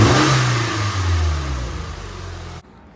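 A Scion FR-S with a GrimmSpeed cold air intake revs hard close by, then the engine falls and settles toward idle before cutting off near the end.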